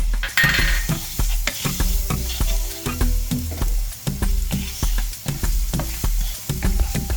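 Garlic dropped into a pot of frying cod, a gentle sizzle beneath repeated metal utensil clinks and scrapes against the pan, close and rhythmic.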